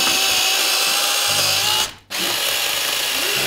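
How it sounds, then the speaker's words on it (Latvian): A power tool cuts through wood being shaped into Christmas tree ornaments, a loud steady grinding whine that breaks off briefly near the middle before resuming at full strength. "Es aizveru acis un zāģēju"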